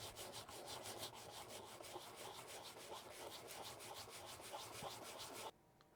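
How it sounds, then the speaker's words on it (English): Sandpaper rubs back and forth across the back of a plastic model starship part, a steady rhythmic scratching of quick close strokes that runs without a break, then stops abruptly near the end. "Now we're just gonna sand the back down, smooth it out, and be good to go."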